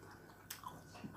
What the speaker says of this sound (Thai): เวลาเคี้ยว เนี่ย เจอเม็ดงากรุบ กับกรุบ